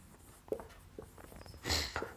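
Writing on a board during a class 10 physics lesson on electromagnetism, faint scratchy strokes with a few brief sharper taps and a louder stroke near the end, close and quiet with no talk.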